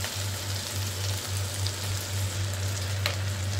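Chopped green chillies and ground spices fry in hot oil in a pan for a Bengali fish-head muri ghonto, a steady close sizzle with faint stirring over a low hum, with no voices.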